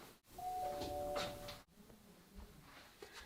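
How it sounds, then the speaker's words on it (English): A Nest video doorbell rings indoors, a clear sustained chime tone sounding once near the start, then fading into a quiet room hum. "So let's go ahead, ring my Nest doorbell, and you can see what happens"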